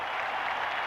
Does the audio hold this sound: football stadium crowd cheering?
yes